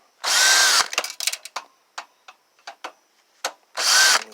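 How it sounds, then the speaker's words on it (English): A power drill bores into the metal chassis of an old desktop PC, with two loud sustained whirring bursts at the start and end and a run of short clicks and taps in between, close by and with no talk. "And basically we're going to take everything out. I'm going to keep this part right here. It's 12 volt supply. Where the heck did my drill go? There it is. And we're just going to start drilling stuff."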